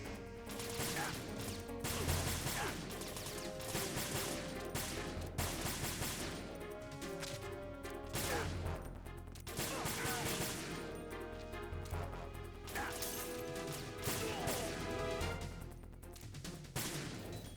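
Gunfire in the Metal Gear Solid 2 video game, with repeated shots and bursts in an uneven rhythm over game background sound, fairly close and moderately loud, with some talking mixed in.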